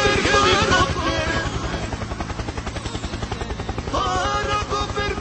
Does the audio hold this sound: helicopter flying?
yes